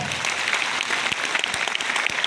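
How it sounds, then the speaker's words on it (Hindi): An audience at a network marketing gathering claps on request, a dense burst of many hands with a few sharp individual claps standing out near the front. "तो ताली तो बजाओ एक बार।"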